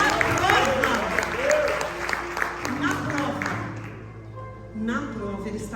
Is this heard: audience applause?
yes